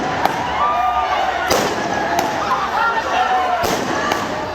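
Fireworks explode on Ryrie Street in Geelong during a crowded street celebration, several sharp loud bangs and cracks spaced irregularly over a steady murmur of the crowd and voices.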